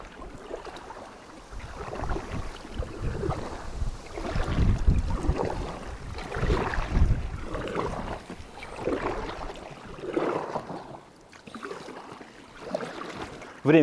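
Wind gusting against a lapel microphone during a solo October river rafting trip on the Pra, rising and falling rumbles in uneven surges with light water and boat sounds beneath.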